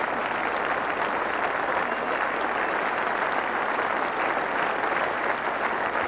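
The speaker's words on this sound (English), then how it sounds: "nice to see the whole of the England side applauding Alan Border on his way up these famed pavilion steps" Sustained applause from a cricket crowd and the England team as Allan Border climbs the pavilion steps at The Oval Test in 1985, a steady even wash of clapping throughout.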